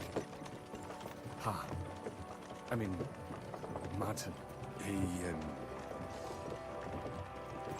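Horse hooves clip-clop in the medieval role-playing game Kingdom Come: Deliverance II, an irregular clatter of steps mixed with creaking mechanical sounds, quiet under steady conversation.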